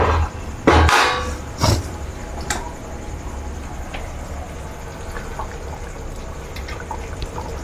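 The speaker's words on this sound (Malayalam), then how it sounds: "അപ്പം നമുക്ക് മീൻ പെറക്കിയിടാം" Fish pieces dropped into a pot of boiling coconut curry: a few heavy splashing plops early on, then a low bubbling simmer with light clinks continues alone.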